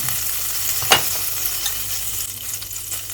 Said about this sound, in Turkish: Önce tencereme etin üzerinde biriken yağdan koyuyorum.